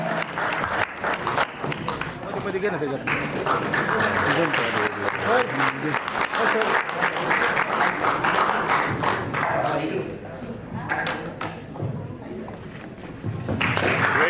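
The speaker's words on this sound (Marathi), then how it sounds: "जोरदार टाळ्या झाल्या पाहिजे" Loud applause from an audience honoring a writer at a gathering, sustained rapid clapping that swells and briefly eases before rising again, with talk mixed in over it.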